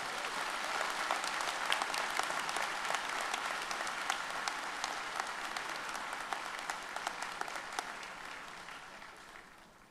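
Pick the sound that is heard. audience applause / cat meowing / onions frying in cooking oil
audience applause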